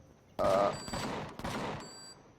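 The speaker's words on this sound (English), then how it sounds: "probably get hit by turrets when I pull back away" Turret gunfire in the Empyrion Galactic Survival video game crackles in sustained loud bursts with a sharp onset, a brief break, then another rapid volley, heard alone without talk.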